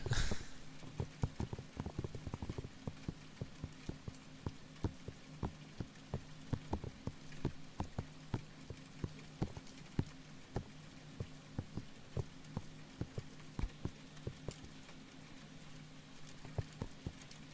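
Rain falling, heard as scattered sharp drips and taps at an irregular pace over a faint steady hum, quiet and close, with no talking.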